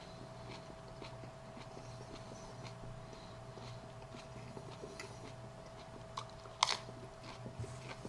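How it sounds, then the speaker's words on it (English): Someone chews a large, very wet 7 Pot Jonah hot pepper pod up close, with soft, repeated wet mouth sounds and a few sharper crunchy bites near the end. "It's a lot to chew."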